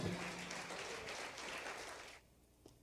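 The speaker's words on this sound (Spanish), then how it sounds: "Aplauda la presencia de Dios, chicos." Applause from a church congregation fills most of the clip as a dense, moderately loud patter, then drops off abruptly near the end, leaving a quiet room with a faint knock.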